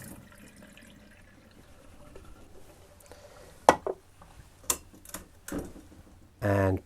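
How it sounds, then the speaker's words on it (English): Pre-soak water is emptied from a film developing tank, with plastic clicks and knocks from handling the tank followed by a short burst of pouring, splashing water at the end. "So I'm going to empty out the pre-soaked water."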